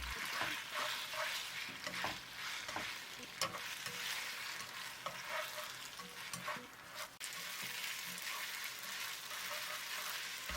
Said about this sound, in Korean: 당면에 색을 내면서 간을 조금 하면서 볶아주세요.